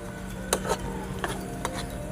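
Milk being stirred into dal halwa in a pan, soft scraping strokes with a few sharper knocks of the spoon against the pan over a faint sizzle, close and quiet with no speech.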